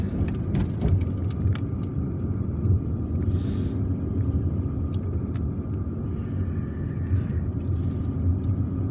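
A car drives through the streets of Algiers toward Kouba, its engine and road noise forming a steady, close rumble throughout with faint passing traffic and no talk.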